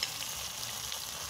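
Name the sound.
frying in hot oil, sizzling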